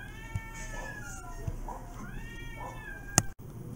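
Several cats meowing in a room, a string of overlapping drawn-out meows with a few soft knocks and a sharp clatter near the end.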